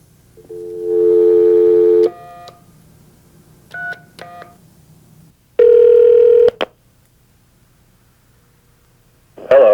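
A telephone sounds a long dial tone, then a quick run of touch-tone dialing beeps, then a steady ringback tone. The tones are loud and clear over a faint hum, with no talking.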